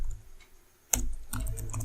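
Keys clatter on a computer keyboard while a button label is typed during JavaScript coding: one sharp keystroke after a quiet pause, then a quick run of several close, crisp taps.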